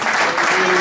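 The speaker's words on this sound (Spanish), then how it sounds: "Un aplauso" Loud, dense applause from an audience at a public gathering in San José, a continuous wash of many hands clapping with no gaps.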